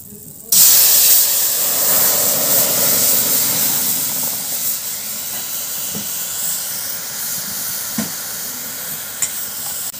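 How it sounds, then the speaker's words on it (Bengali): Thinned mustard paste hits hot frying oil for a pomfret curry, bursting into a loud hissing sizzle that settles into a steady, slowly fading crackle with a few small pops. "সর্ষেটা আমি একটু জল দিয়ে পাতলা করে নিয়েছি, নিয়ে এটা আমি আবার তেলের ওপরে দিয়ে দেবো।"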